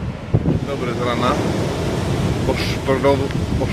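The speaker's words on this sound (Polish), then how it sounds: "pokażę Wam, jakie fale są." Stormy sea surf on a beach the morning after a night storm at a Tekirova resort, a steady wash of breaking waves mixed with wind noise on the microphone, and brief voices over it.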